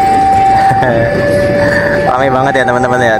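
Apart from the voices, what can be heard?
train passing by in Yogyakarta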